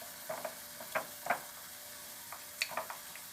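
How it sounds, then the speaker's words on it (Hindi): Salt and red chili being stirred into yogurt with a spoon for a roasted eggplant dish, heard as a few soft scraping and tapping strokes in a bowl, spaced out and fairly quiet, with no talking. "आइए अब इन दही में चीज़ें मिक्स करते हैं।"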